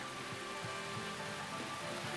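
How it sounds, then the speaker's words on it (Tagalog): Heavy rain falls in a steady, dense hiss with faint underlying tones, quiet and continuous throughout, with no voices. "Kahit malakas ang ulan,"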